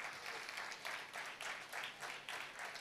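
Audience applause at an event with a chief guest speaking, a steady wash of many hands clapping in waves, moderately distant in a hall.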